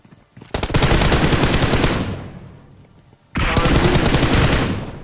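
Automatic gunfire in the mobile battle royale game BGMI, two loud sustained bursts of rapid shots, the first rolling off into a decaying tail before a brief pause and a second equally loud burst.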